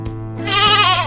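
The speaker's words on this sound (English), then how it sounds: "Lamb says, Baa Baa." A young lamb bleats once, a loud wavering baa that rises and holds for about half a second, close and clear with nothing else around it.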